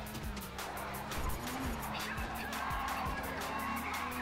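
In the racing game Racedriver GRID, a car drifts and spins, its engine roaring as the tires squeal steadily. The screech stays loud and unbroken throughout, with repeated skidding bursts.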